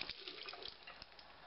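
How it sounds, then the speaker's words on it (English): Sponge cloths being rinsed under a running kitchen tap, a steady close hiss of flowing water with small splashes and drips, no voices. "After a thorough wash with clear water,"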